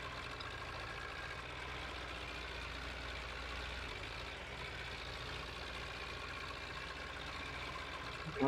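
In the video game Farming Simulator, a small tractor engine idles steadily at low volume, a soft mechanical chug that holds even throughout.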